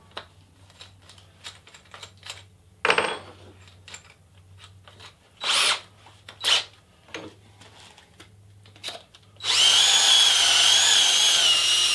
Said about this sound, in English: so you got to drill that out